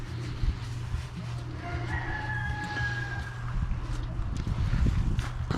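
A rooster crows once at a moderate distance, a drawn-out call over a low background hum and faint clatter.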